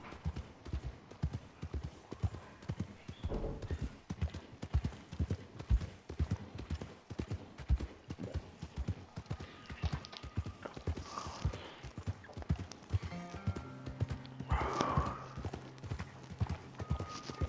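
Horse hooves clip-clop in a steady walking rhythm, close and fairly loud throughout, with a few faint voices in the background and a brief tonal sound near the end.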